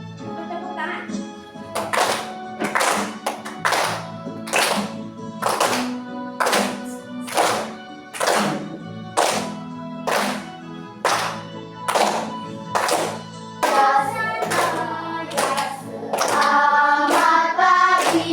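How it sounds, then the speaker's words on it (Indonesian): Children in a Catholic religious education class clap their hands in a steady, regular rhythm of crisp claps that grows busier toward the end, with singing voices joining in. "Tepuk tangan."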